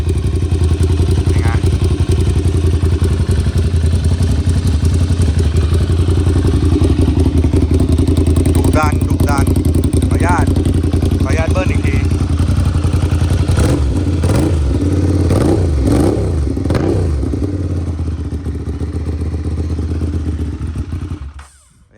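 A 2012 Ducati Monster 795 motorcycle engine idles loudly and steadily, then revs in several sharp bursts near the end before cutting off.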